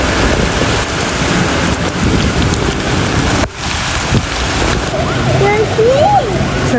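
Heavy rain pours steadily throughout in Karachi at night, with a low rumble of thunder partway through and faint voices in the background.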